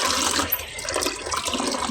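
Running water splashes while teasel gourd and potatoes are washed, a short burst of continuous tap-like flow and sloshing with no talk.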